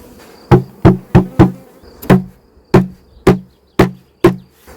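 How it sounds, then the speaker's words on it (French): Honeybees swarm around a hive as the frame is shaken and knocked to drop them inside. Eight sharp thumps land in an uneven rhythm over a steady, close insect buzz. "Il y a encore plein d'abeilles."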